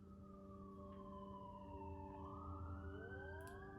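An ambulance siren wails with a rising and falling tone, distant and faint, steady over low background noise.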